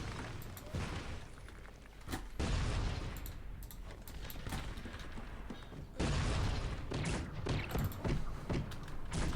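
Cannon fire and heavy gunfire from a battle in the strategy game Cossacks 3, with loud booming volleys landing repeatedly across the whole span, peaking around the middle and again toward the end.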